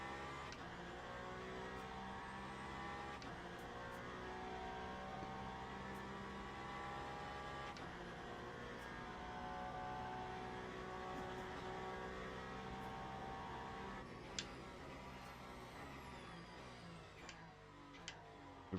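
Le Mans Ultimate hypercars from Cadillac, Peugeot, Ferrari and Toyota drone steadily under racing conditions, a faint, continuous engine hum with occasional small ticks and clicks.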